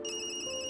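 A phone rings in the video game Tokyo Dark with a sustained electronic ringtone, even and close throughout the short moment, no voices over it.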